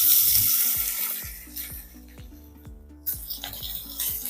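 Frozen smoked ham frying in a pan for a home English breakfast, giving a steady hiss and crackle. Clanging utensil strikes and scraping sit over the sizzle, which fades a little midway and then picks up again.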